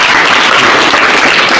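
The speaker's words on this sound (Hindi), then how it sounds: "जोरदार तालियों से इनका स्वागत करें" Loud, dense applause fills a school gathering as the audience welcomes a student, a continuous close wash of many hands clapping with no talk over it.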